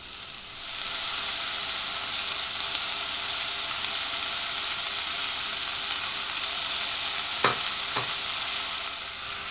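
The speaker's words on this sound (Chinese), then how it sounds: "接着加入切好的牛肉块下去进行翻炒。" Cut beef chunks are stir-fried in a wok, giving a loud, continuous sizzle with a couple of sharp utensil scrapes near the end and no voices.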